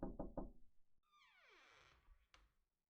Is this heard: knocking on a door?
yes